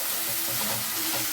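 Ginger garlic paste fries in hot oil in a pan for paneer masala, giving off a loud, steady, close sizzle with soft stirring scrapes mixed in.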